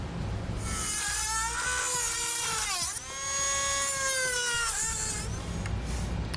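Plastic trim piece under the front of a 2017 Ford Focus being cut back with a high-pitched power tool, a loud whining buzz that drops briefly near the middle before resuming steadily.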